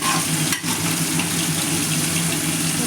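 Cauliflower and spice paste fry in a pan while being stirred, a constant close sizzle over a low steady hum, broken by one brief dip and scrape early on.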